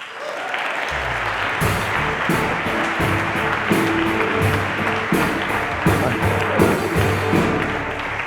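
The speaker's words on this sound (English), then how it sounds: "Please welcome, with a big applause, Svenja Haus." An audience gives loud, continuous applause for a speaker's introduction. The dense clapping runs the whole time over a low musical hum.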